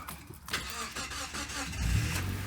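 A Mazda Miata engine cranks and catches near the end, settling into a low rumbling idle after a stretch of quieter mechanical noise.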